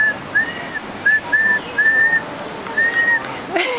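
A person whistles a short melodic tune in several clear, high phrases with brief pauses between them, over a faint background hiss.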